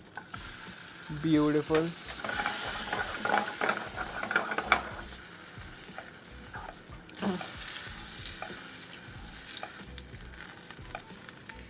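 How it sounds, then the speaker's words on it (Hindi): Coffee-marinated paneer sizzles as it cooks slowly in a hot pan, a steady frying hiss with stirring and scraping near the start, and a voice briefly says a word. "add your paneer, let it cook slowly"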